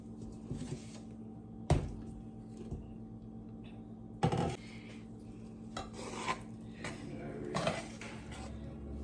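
Cooked rice being stirred in a pot on the stove, quiet scraping and a couple of sharp clanks of spoon against the pot, with faint kitchen background.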